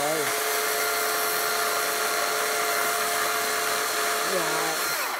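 Battery-powered saw cutting outdoors at a camping site, a continuous high-pitched whine that spins up at the start and winds down at the end, loud and close throughout.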